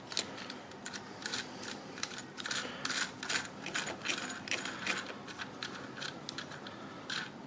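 A wing nut is unscrewed from the air filter cap of a Trailmaster mid kart during a stage 1 performance kit install, making quiet, close ratcheting clicks and small metallic scrapes in an irregular stream.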